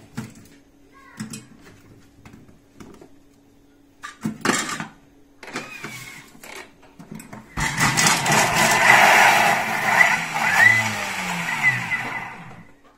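An electric blender chops onions close by, first in several short bursts separated by pauses, then in a long steady whirring run that fills the second half.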